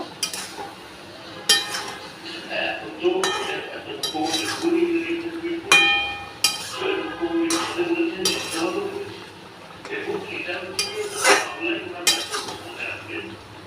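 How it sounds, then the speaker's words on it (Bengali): Raw mango chutney being stirred in a pan with a metal spatula, giving repeated scraping strokes and clinks against the pan at an irregular rhythm, close by, with a voice speaking in between. "খুব নাড়তে হবে এবং নেড়ে নেড়ে তলায় যাতে ধরে না যায়"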